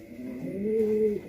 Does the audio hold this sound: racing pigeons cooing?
yes